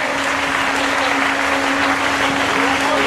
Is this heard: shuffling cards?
no